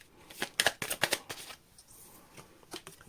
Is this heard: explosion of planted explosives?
no